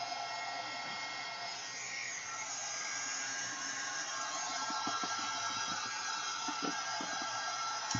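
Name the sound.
hair dryer drying gesso on mixed media canvas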